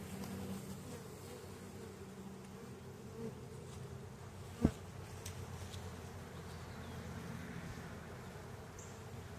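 Honeybees droning in a soft, steady hum as a swarm is installed in a hive box, with one brief sharp knock partway through.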